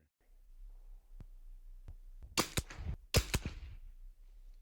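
A .22 LR rifle fires budget Arms Corp ammunition, giving a few faint snaps followed by two louder sharp cracks close by, with voices talking around the shots.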